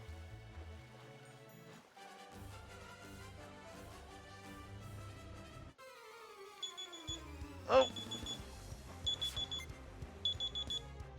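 A phone alarm set for 4:30 in the afternoon goes off during Pokemon Shining Pearl gameplay, repeating bright beeping tones over the game music. A voice gives a brief startled exclamation.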